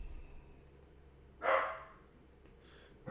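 A single sharp bark from a dachshund indoors, moderately close and clear, rising out of a quiet room hum, with a faint start of another sound at the very end.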